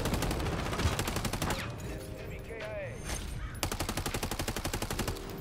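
Rapid automatic gunfire in a shooter video game, loud bursts of closely spaced shots at the start and again near the end, with a short gap of mechanical clicks and effects between them.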